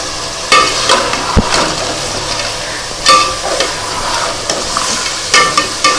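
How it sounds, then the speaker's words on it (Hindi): Masala for a spicy besan noodle curry sizzles and fries in a pan while a spoon stirs it, giving repeated scraping clatters over a constant hiss, close up and with no talking. "तो तकरीबन हम 4-5 मिनट तक हिलाएंगे ताकि सारा मसाला इनको अच्छी तरह लग जाए।"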